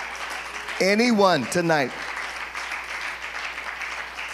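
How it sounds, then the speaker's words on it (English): A church congregation claps in praise during a sermon. A soft, steady patter of applause runs throughout as a preacher speaks loudly over it. "clap your hand and give God a praise"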